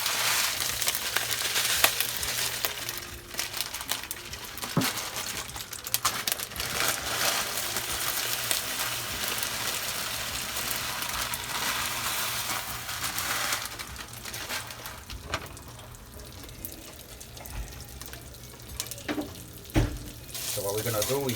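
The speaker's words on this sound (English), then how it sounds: "We're gonna fry it first until it gets to a nice color, like brown color." Fideo pasta noodles fry in a pan with a steady hiss and crackle throughout, broken by occasional clinks and stirring sounds, while kitchen noise runs underneath.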